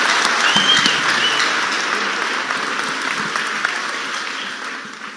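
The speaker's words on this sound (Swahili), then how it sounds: "Hiyo ni makofi yetu kweli ya 3 million" A church congregation in Kenya claps together in a full, loud round of applause that gradually tapers off toward the end.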